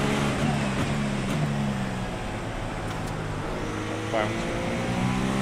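A car engine held at the rev limiter, giving a steady, continuous buzzing drone with stable harmonics and no breaks, heard under a person talking.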